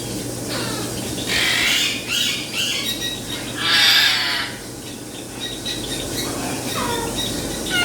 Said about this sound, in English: Cockatiel, look at it.